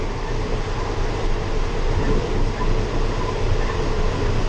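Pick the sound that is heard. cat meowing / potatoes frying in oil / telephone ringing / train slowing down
train slowing down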